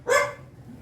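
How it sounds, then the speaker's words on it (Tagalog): A single sharp dog bark sounds close by in Tanza, Cavite, loud and brief, then fades into quiet background. "May aso ha? Aso?"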